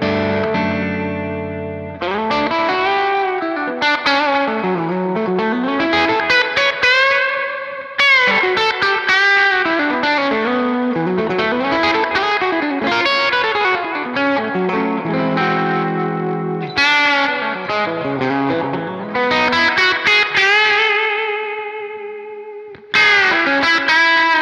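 Electric guitar played through a Xotic AC Booster overdrive with echo added, a continuous run of sustained, bending lead lines with repeats trailing each phrase, loud and alone with no talking.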